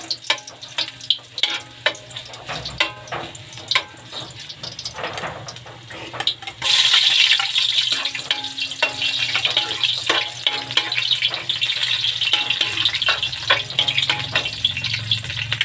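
Pancit noodles frying in a pan, a continuous close sizzle with stirring scrapes and clatters that suddenly swells into a louder, hissing fry midway.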